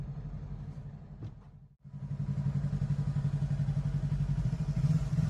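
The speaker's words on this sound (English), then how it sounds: "I got 2 motorcycles on me." Two motorcycle engines rumble close by with a rapid, throbbing pulse that swells louder, heard from inside a moving Tesla.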